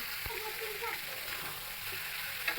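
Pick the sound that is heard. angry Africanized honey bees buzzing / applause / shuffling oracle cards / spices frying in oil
spices frying in oil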